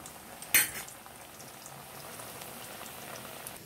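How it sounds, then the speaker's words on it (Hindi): Aloo vadas deep fry in hot oil over a low flame, giving a soft, steady bubbling hiss that opens with one sharp metallic clink of a utensil. "हमारा ऑयल गर्म हो गया, अब हम इसमें बड़े डालना स्टार्ट करेंगे।"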